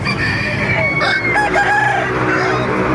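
Several chickens cluck and a rooster crows loudly nearby at a chicken market in Baliuag, Bulacan, Philippines, calls overlapping against a noisy farmyard background.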